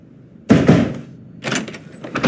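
Heavy pounding on a door: two clusters of loud, close thuds, two quick blows and then a second burst about a second later, with a short gap between.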